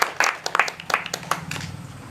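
A handful of sharp, irregular claps ring out close by, a small group clapping briefly during a village wedding scene in a comedy sketch, fading after about two seconds.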